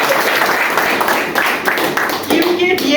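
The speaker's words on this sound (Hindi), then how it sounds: "ताली बजाओ अपने लिए।" Scattered clapping from a small audience at a DXN products training session, fairly close and mixed with voices talking over it.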